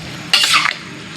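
Vegetables for pansit canton bihon guisado are stirred in a hot pan, giving one brief scraping, sizzling sweep of a utensil against the cookware.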